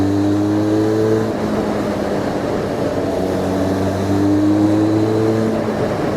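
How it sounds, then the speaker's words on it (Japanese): Harley-Davidson X500 motorcycle with a 360-degree crank, its engine revved hard in third gear: a loud, close, continuous throaty roar with pitch sweeping up and down as the revs rise and ease off, without any talk. "では少しエンジン回してみます。"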